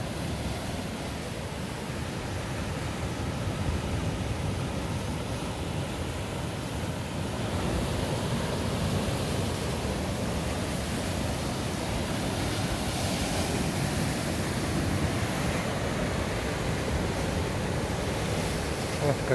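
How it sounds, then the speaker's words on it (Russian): Steady roar of sea surf with waves breaking continuously, loud and close, a broad wash of noise with swells rising and falling; no talking. White River Beach, Cyprus. "Как волны бьют."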